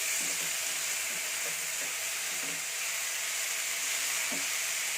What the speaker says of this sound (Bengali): একটু লাল লাল করে শুকনো শুকনো করে শাকটাকে ফ্রাই করে নিতে হবে